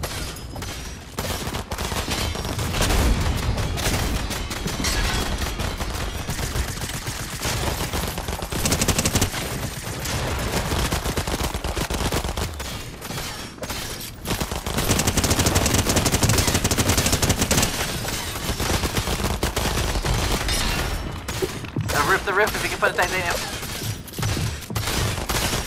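Video game gunfire, dense rapid bursts of shooting that run almost continuously with brief pauses, loud and close.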